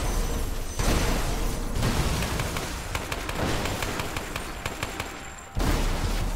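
Weapon fire strikes ice in the co-op action game Lara Croft and the Temple of Osiris, rapid bursts of gunfire crackling in dense volleys that start, stop and start again over several seconds of loud game audio.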